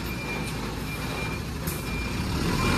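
A loaded truck reverses with its reversing beeper sounding a few faint beeps over a steady engine and road noise, with no voices.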